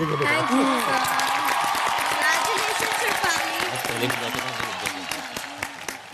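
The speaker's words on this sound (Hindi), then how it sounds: "जोरदार तालियां" Loud, sustained applause from a crowd of housemates on the Bigg Boss 13 reality show as Shefali receives a power card, continuous and dense throughout, tapering slightly toward the end, with voices talking over it.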